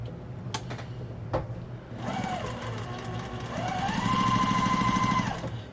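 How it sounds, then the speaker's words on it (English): Sewing machine stitching fabric pieces together for a pillow or wall hanging, with a whirring motor run that rises and holds steady before stopping, preceded by a few clicks. "How I'm sewing these pieces together."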